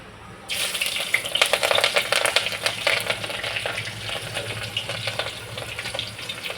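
Cumin seeds and green chillies frying in oil in a pan, a steady close hiss and crackle that starts abruptly and continues without talk.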